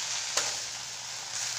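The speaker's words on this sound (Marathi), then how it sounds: "फक्त तेल घालून डायरेक्ट मेथी घालून घ्यायची" Fenugreek leaves dropped into hot oil with no tempering, giving a steady hiss of frying with a brief sharper crackle near the start, moderately loud and uninterrupted by voices.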